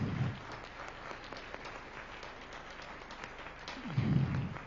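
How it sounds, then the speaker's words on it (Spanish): A church congregation gives a short round of applause, quiet and somewhat distant, with soft scattered claps filling the whole stretch and brief low swells near the start and end. "vale la pena el aplauso."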